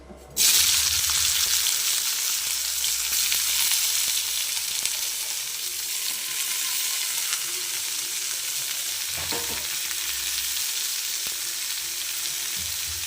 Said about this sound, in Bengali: সর্ষের তেলও খুব ভালোভাবে গরম হয়ে গেছে এবার উচ্ছেটা দিয়ে দেবো